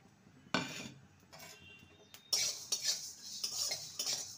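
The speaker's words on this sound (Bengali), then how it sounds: "এবার সব মশলাগুলো ভেজে নেব।" Whole spices being dry-roasted and stirred in a pan after dried chillies, with a few sharp metallic utensil scrapes and clinks against the pan, then a denser run of rattling, scratchy stirring noise, close and fairly quiet, no talking.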